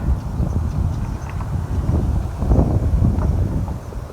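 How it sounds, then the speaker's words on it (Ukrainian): Strong, gusty wind roars across the microphone in loud, uneven surges with rumbling buffets, building to a heavier gust midway. "Вітер такий скажений, такий віє і ще з такими сильнішими поривами"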